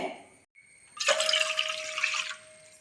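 Water pours steadily from a glass into a pot for a little over a second, a close, splashy rush that then stops.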